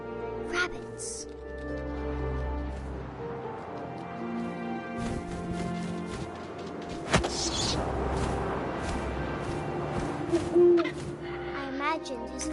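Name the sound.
owl hooting in the video game What Remains of Edith Finch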